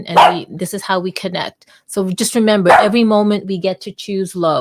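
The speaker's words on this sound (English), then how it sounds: "And that's my dog." A female pet dog barks in several short, sharp bursts mixed in with a person talking steadily close by.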